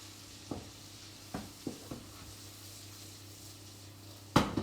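Prawns sizzle in a pan on an induction hob with a soft, steady frying hiss, broken by a few stirring knocks and a louder clatter near the end, with no voices.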